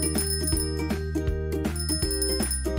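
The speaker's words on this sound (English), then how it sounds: "Bicycle." A bicycle bell jingles in bright, repeated rings over steady background music, with no voices.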